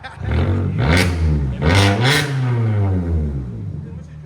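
Close, loud revving from a 2012 Kia Optima 2.4L fitted with a Carven R-Series exhaust, several sharp throttle blips that rise and fall in quick succession over a raspy idle.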